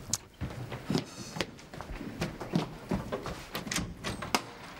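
A door opens in a home setting in a Turkish sitcom, with a short sequence of clicks and knocks against a quiet room background, no talking over it.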